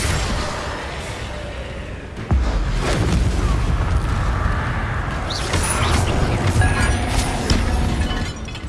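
Confringo and Incendio spell blasts in the video game Hogwarts Legacy: a sudden loud boom, then dense, continuous crackling and rumbling bursts of fiery impacts, with no speech.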